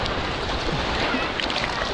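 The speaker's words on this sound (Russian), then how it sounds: "Сейчас такая волна" Sea waves wash steadily onto a crowded Azov Sea beach at Golubitskaya, a continuous broadband surf rush filling the whole clip with no distinct breaks or voices.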